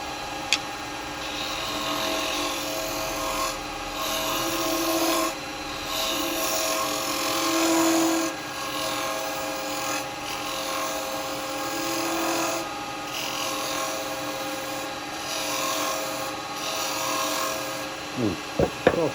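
A box follower tool cuts into wood spinning on a lathe while a small three-tiered lidded box is being turned, giving a steady scraping, rasping hiss with brief pauses between passes and a few knocks near the end.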